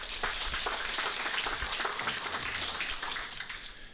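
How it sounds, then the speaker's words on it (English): An audience at an induction ceremony applauds steadily for several seconds, a dense wash of clapping hands that fades slightly at the end. "give each and every one of you a round of applause for being here"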